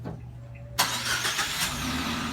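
A car engine starts abruptly after a quiet moment, then keeps running at a steady mid-pitched idle, loud and close, with no one speaking.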